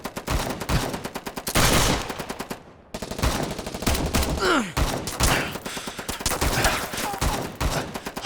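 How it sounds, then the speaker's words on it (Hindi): Bursts of rapid automatic gunfire, loud and close, fill most of the clip with repeated rattling volleys and only a brief pause. "फायरिंग की जा रही है"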